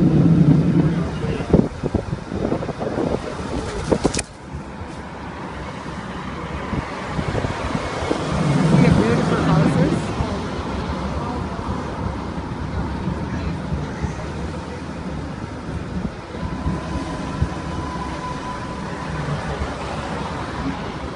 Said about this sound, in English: On a streetcar ride,